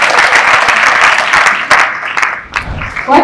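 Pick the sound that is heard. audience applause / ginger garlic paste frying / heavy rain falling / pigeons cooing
audience applause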